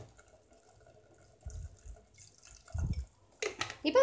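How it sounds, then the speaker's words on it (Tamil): Water poured into potato curry in a pressure cooker, faint at first, then several short splashing bursts that grow louder toward the end. "இன்னும் கொஞ்சம் தண்ணி விட்டுக்கலாம்."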